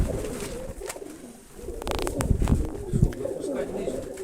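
Soft, low pigeon coos repeat through the clip, with some fluttering and rustling nearby and faint voices in the background.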